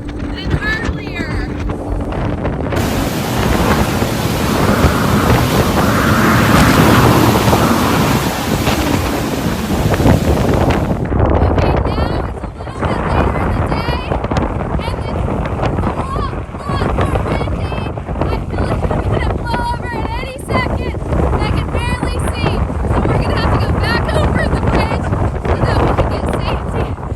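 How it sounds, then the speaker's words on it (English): Hurricane Ian's roaring wind and heavy rain batter a bridge area, loud continuous gusting and hiss with buffeting against the microphone, a person talking under the storm at times. "It's a lot heavier rain than earlier."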